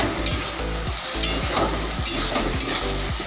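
Chicken sizzles loudly in spiced oil in a wok, with a continuous hiss. A spatula stirs and scrapes in a steady, roughly half-second rhythm, close up and without talk.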